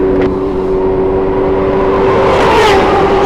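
A Porsche Macan accelerates inside a Dallas tunnel at night, its engine and turbo droning loud and close with a steady rising roar that swells briefly near the end.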